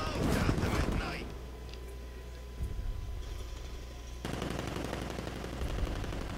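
Tank-mounted machine gun fire in Batman Arkham Knight, heavy rapid bursts loud at the start and then continuing intermittently beneath a droning engine rumble, with a player talking throughout.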